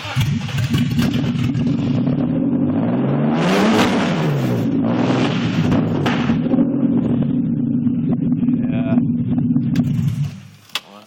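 A car with an M3 engine swap, a straight six, idles roughly and is revved loudly with the pitch rising and falling, then cuts out abruptly as it stalls; a voice is briefly heard under the engine.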